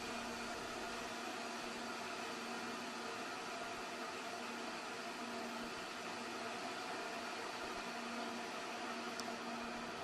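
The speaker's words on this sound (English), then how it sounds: "is depressurizing the Stratos capsule to ambient outside barometric pressure" Air rushes out as the Stratos capsule depressurizes to the thin outside pressure at about 127,900 feet, a constant broadband hiss with a steady hum beneath, unbroken and even throughout.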